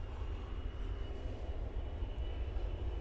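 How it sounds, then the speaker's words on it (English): An Embraer jet passing over Manchester Airport, likely bound for Scotland: a steady, broad engine roar with a deep low rumble, distant and unbroken for the whole stretch, no voices. "Oh, Embraer on its way over somewhere to Scotland."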